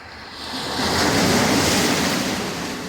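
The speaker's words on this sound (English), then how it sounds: "just watching the water, watching the waves, the ships on the pier and everything" Ocean waves wash steadily at a pier, a broad continuous surf roar that swells toward the middle and eases slightly, with wind noise on the microphone and no talking.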